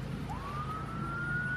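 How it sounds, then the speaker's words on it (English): An emergency vehicle siren rises and holds a long steady wail, fairly distant, over low traffic rumble in a residential area. "Oh, there's sirens."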